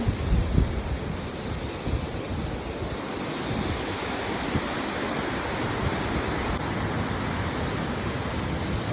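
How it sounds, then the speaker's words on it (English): Waterfall on the trail to the tea house near Lake Agnes in Banff, a steady loud broadband roar of falling water that fills the whole stretch with no pauses and no voices. "if you can hear me over the waterfall"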